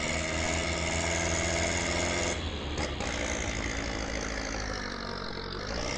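Heavy truck engine in the Spintires off-road game, hauling a log trailer through deep mud, laboring and bogging down as a steady dense rasping drone that shifts in tone partway through, continuous and loud with no talk.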